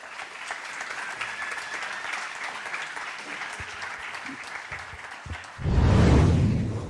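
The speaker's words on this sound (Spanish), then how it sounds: "Un aplauso" Audience applause at a science talk on string theory, a broad wash of many hands clapping that holds steady, then swells louder toward the end, with a faint voice briefly audible beneath.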